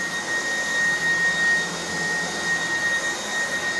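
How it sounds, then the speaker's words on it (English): A Dreametech T10 cordless stick vacuum runs at maximum power, 10 more CFM and 48 inches of nozzle suction, with a steady loud whining roar and a high tonal whine held throughout, with no talk over it. "it's got the T10 running on its maximum, has 10 more CFM and 48 more inches of nozzle suction"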